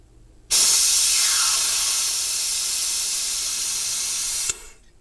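A vacuum brake bleeder on a 1986 Vauxhall Cavalier draws air in during a brake fluid flush, giving a loud, steady hiss that starts abruptly, holds for about four seconds, then cuts off.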